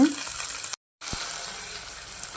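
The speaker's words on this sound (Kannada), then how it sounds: "ಈರುಳ್ಳಿನ ಸ್ವಲ್ಪ ಇಲ್ಲಿ ನಾನು ಫ್ರೈ ಮಾಡ್ಕೊತೀನಿ." Onions fry in a pan with a steady, close sizzle that drops out briefly in the middle before resuming.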